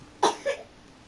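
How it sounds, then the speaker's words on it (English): A young boy coughs twice in quick succession as he wakes up, one sharp cough followed by a softer one, nearby in an otherwise quiet room. "Apologies for the coughing, that's my son waking up."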